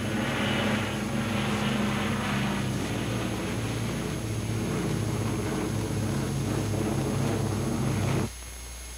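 A squadron of WWII fighter aircraft drones past in a continuous, loud propeller engine roar with a low steady hum, which cuts off abruptly near the end.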